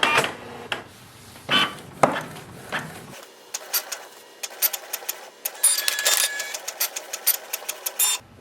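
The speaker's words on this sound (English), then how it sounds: "wait for the printer to do the copy." A Canon Pixma G3160 inkjet printer making a copy gives off a series of mechanical whirs, clicks and short feed bursts in an uneven rhythm, heard close and fairly quiet with no talking.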